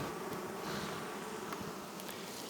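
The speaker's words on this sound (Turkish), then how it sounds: "Evet arılarımızın durumu bu." Honeybees buzzing steadily at a beehive, a dense continuous hum that fills the scene with no voices present.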